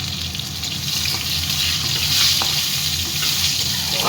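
Chopped onions and bay leaves fry in hot oil with a steady, close sizzle, a bright continuous hiss that swells slightly midway, no voices present.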